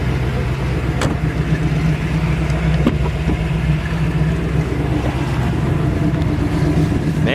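A 1962 Chevrolet Corvette roadster with a 327 V8 rumbles steadily from inside the car while driving, a constant low engine drone with faint occasional knocks and no talking.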